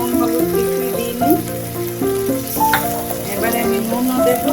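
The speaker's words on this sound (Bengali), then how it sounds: "মশলাটা তেল ছাড়া পর্যন্ত ভাজবো, যতক্ষণ না তেলটা ছেড়ে দিচ্ছে" Spice masala with turmeric frying in oil for bhindi masala, a steady close sizzle with stirring, heard under background music.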